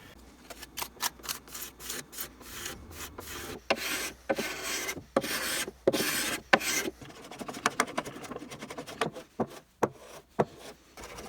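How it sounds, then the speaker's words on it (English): A low angle block plane takes repeated short shaving strokes across a wooden mantle end cap, each pass a crisp rasping swipe in an uneven rhythm, close and alone. "I just planed it down to give myself a nice crisp clean line"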